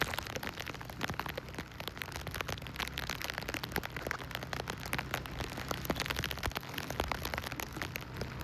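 Heavy monsoon rain pours steadily over a village road, a dense, continuous hiss of drops pattering on surfaces that stays even and close for the whole stretch, with no voices.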